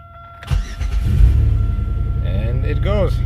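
After a starter replacement, a 1999 Buick Century cranks briefly and fires into a steady, close idle, with a person talking over the running engine.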